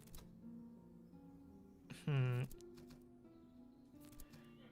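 A single short, loud horse neigh from the Cossacks strategy video game rises briefly over a low, steady backdrop of game ambience.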